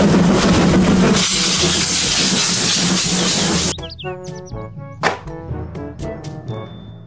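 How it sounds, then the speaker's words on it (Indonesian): A Thomas the train toy gives a loud, steady hissing, chugging noise for about four seconds, then a string of short electronic chirps and whistle-like tones. "Kereta Thomas."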